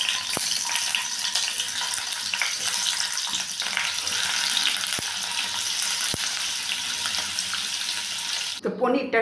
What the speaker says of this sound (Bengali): তেলটাও আমার গরম হয়ে গেছে। এখন পনিরগুলোকে ভেজে নেব।